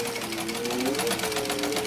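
An antique sewing machine stitches in a fast, even mechanical whir with rapid rhythmic clicking, heard briefly and up close.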